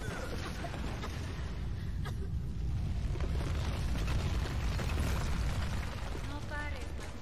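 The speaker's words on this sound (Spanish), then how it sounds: "He explotado el sitio clave para que empiecen a haber explosiones en cadena" Dense, rumbling chain explosions in the video game Tomb Raider roll on continuously, layered and chaotic, with talk mixed in over the steady low roar.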